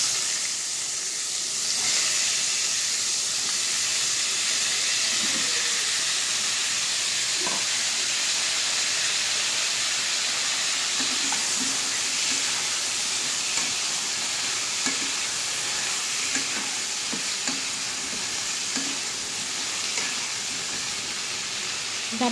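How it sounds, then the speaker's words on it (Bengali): Vegetable stems and potatoes, rubbed with salt and turmeric, frying in a little oil for a fish dish: a steady broad sizzle and hiss with occasional stirring scrapes, constant and fairly close throughout. "ডাটা আলুটাকে একটু ভেজে নিব,"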